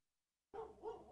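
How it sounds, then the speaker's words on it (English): A dog lets out a sudden close bark after silence, a short double woof that ends almost at once. "you hear my dog?"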